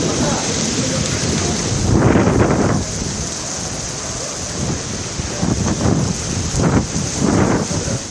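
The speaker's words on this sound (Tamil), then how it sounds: "கனமழை கொட்டியது." Heavy rain pours down steadily during a thunderstorm in a Delhi dust storm near Indira Gandhi International Airport, with gusting wind. Rumbling thunder swells several times beneath the loud, constant downpour.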